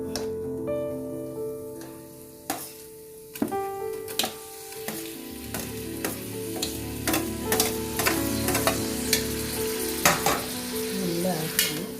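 Chopped tomatoes and onions sauté in a pan for a vegetable biryani, with steady sizzling broken by repeated clinks and scrapes of a stirring spoon, close and fairly loud, with no talking.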